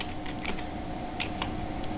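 Soft plastic clicks from a computer mouse's left button being pressed in quick succession, faint and close, scattered in a few short bursts over constant background hum.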